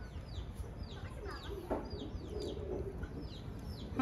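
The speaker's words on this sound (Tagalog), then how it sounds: "Ay manok." A native chicken clucks outdoors in a rural mountain area of the Philippines, with soft, fairly distant clucks and chirpy calls over a constant background hum.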